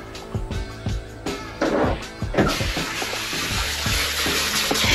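Water runs and splashes steadily while a pitbull is rinsed off during grooming, a continuous close hiss with a few brief bumps early on.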